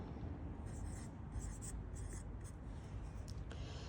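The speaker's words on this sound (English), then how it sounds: "So you write it out." A pen scratches across paper while a math problem is worked out by hand, with steady close strokes and short scribbled bursts throughout.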